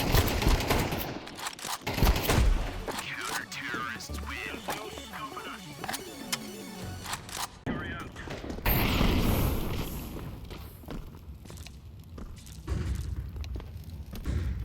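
Rapid bursts of gunfire in Counter-Strike 2 crackle through a busy, dense mix with booming thuds, sustained for most of the stretch alongside other game-like noise.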